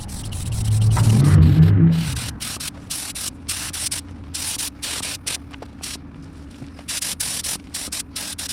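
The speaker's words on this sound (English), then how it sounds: "got everything sprayed down good. Taillight housings and got that primer sealer on there" A spray gun laying primer sealer onto a 1966 Plymouth Belvedere, with a steady hiss in short bursts. A louder, rougher burst comes early, then quieter passes with brief pauses between them.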